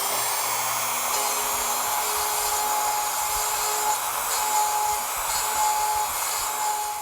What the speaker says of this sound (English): now I'm ready to route, and I'm going to stay about 1/8 of an inch inside that score line